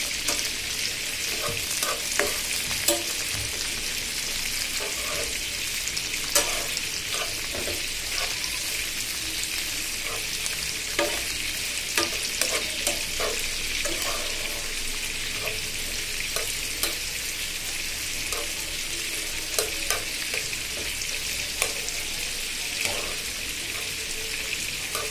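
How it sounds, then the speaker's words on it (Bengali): Tomato, onion, garlic and green chili frying in oil for a prawn bhuna, a continuous close sizzle peppered with frequent crackles and utensil scrapes and taps throughout. "এদিকে চিংড়ি বোনা করার জন্য আমি টমেটো, পেঁয়াজ, রসুন, কাঁচামরিচ তেলে ভেজে নিচ্ছি।"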